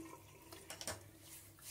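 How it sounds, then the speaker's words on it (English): Water splashed onto the face during a wet shave, a soft, close running-water and splashing sound from a sink, quiet and brief. "Some water on my face."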